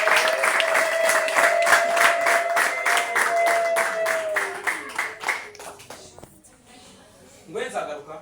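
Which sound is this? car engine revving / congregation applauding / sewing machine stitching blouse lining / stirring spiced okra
congregation applauding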